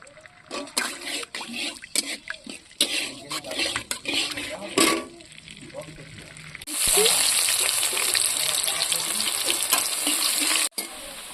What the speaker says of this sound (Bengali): পেঁয়াজটা লাল লাল করে ভাজা হয়ে গিয়েছে।